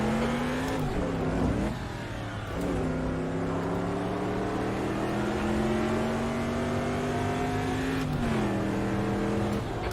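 A super truck in the racing game Automobilista VR revs hard, its engine pitch climbing, dropping at shifts and climbing again in a loud continuous drone.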